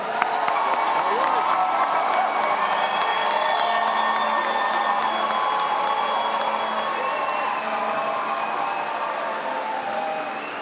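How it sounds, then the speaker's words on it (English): A commencement audience applauds and cheers graduates at a spring morning ceremony, a steady wash of clapping with scattered whoops that holds loud for several seconds before easing slightly. "let's commend these graduates with a round of applause"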